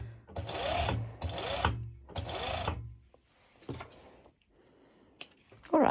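A sewing machine stitches elastic onto stretch fabric in three loud, steady bursts, then quieter handling and rustling of the fabric follow.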